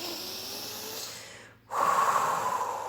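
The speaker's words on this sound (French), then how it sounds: "faites maintenant 2 ou 3 grandes respirations illimitées" A slow, deep breath during guided meditation: a long airy exhale that fades to a brief silence, then a fuller, louder inhale of soft breath noise, close and alone.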